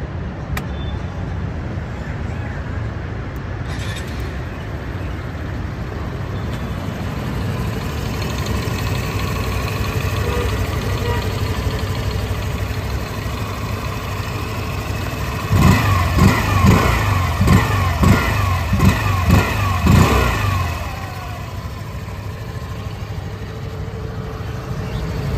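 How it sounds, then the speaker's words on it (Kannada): A 2025 Hero Destini 125 scooter idles with a steady low exhaust putter, then gives a short run of quick throttle blips before settling back to idle, heard close with no talk. "ಎಕ್ಸಾಸ್ಟ್ ನೋಟ್ನ ನೋಡ್ಕೊಂಡು ಬರೋಣ ಬನ್ನಿ."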